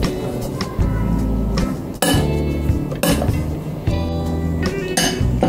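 A spoon clinks and scrapes against a dish while mixing sprout sandwich filling with red ketchup, giving loud, repeated metallic knocks in an uneven stirring rhythm.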